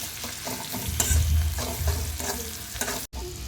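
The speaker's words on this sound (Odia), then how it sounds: "ପିଆଜକୁ ଟିକେ ଭାଜିବାକୁ ଦେବା ଟିକେ ବ୍ରାଉନ୍ କଲର୍ ହେଲା ପର୍ଯ୍ୟନ୍ତ ଭାଜିବା" Onions frying in hot oil until browned, a loud, close, continuous sizzle broken by scraping stirs of a spoon in the pan, with no speech.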